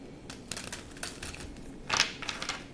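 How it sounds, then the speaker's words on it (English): Rapid papery riffling and soft slaps of tarot cards being shuffled close up, with a brief louder flurry in the middle. "I'm going to shuffle the cards"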